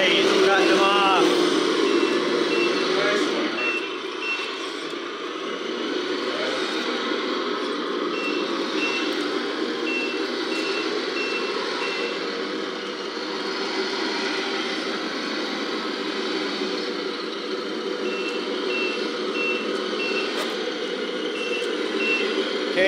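Backup beepers on small RC forklifts sound as steady, evenly spaced tones over a constant motor whir, with talk heard near the start.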